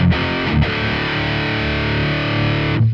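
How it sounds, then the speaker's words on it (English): A heavily distorted electric guitar through a Laney Ironheart amp plugin, boosted by a Black Country Customs Steel Park pedal, rings out in thick, sustained chords, loud and saturated, with a brief break before cutting off near the end. "We're currently being boosted by this Black Country Customs pedal"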